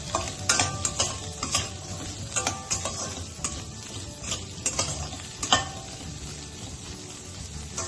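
Bitter gourd and onion pieces fry together in a pan, a steady close sizzle punctuated by repeated sharp scraping and tapping of a stirring spoon, with no talking.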